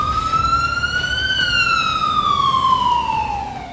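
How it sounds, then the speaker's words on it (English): Wailing emergency vehicle siren near Pearl Harbor, a single loud continuous tone that rises and then slowly falls, heard alone with steady road noise underneath. "Sirens raced across Pearl Harbor."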